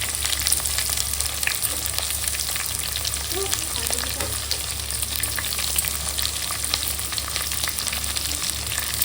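Onions fry in a pan for tomato chutney, giving a steady, close sizzle with occasional stirring scrapes and no talk.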